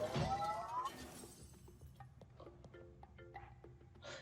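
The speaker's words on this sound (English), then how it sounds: "Unfortunately, the breaking of this glass is a necessary evil." Glass shatters in the puzzle game Quantum Conundrum, a bright crash at the start that trails into scattered tinkling shards and faint clinks.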